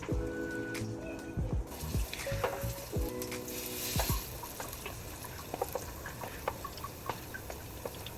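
Plantain slices frying in a pan, a busy crackling sizzle with soft stirring and scraping clicks throughout, close and steady.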